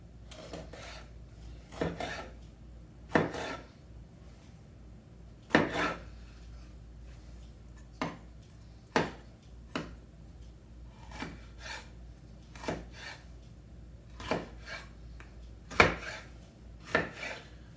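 Knife chopping aromatics into thin slivers on a board, about a dozen sharp separate thwacks at an uneven, unhurried pace, close and clear over a quiet room.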